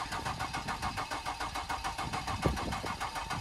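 Nissan Altima engine cranking over and over during a start attempt: a fast, close, rhythmic churning that pulses without a break, with a single knock partway through.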